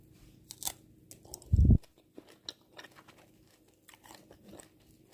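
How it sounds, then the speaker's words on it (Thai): Biting and chewing of unripe-tasting mango dipped in shrimp paste, one loud close crunch followed by softer, irregular chewing and mouth sounds, with no talking. "มะม่วง จิ้มกะปินะ"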